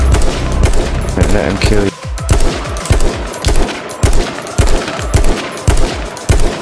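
Gunfire in H1Z1 from a hilltop: loud, close bursts of rapid shots repeat in a steady rhythm with brief gaps, and someone speaks briefly over them.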